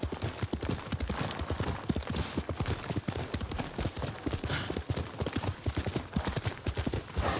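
Horse hooves clip-clopping at a steady galloping rhythm while riding through the video game Ghost of Tsushima, close and prominent, with occasional faint whinnies and a voice talking briefly underneath.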